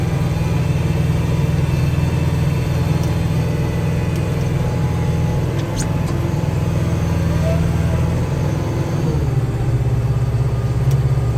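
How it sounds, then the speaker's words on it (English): A tractor engine runs steadily near idle while plowing snow, a continuous low drone that stays loud and close throughout with no talking. "how come the tractor is almost at idle when you're plowing?"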